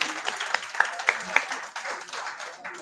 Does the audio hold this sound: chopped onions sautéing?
no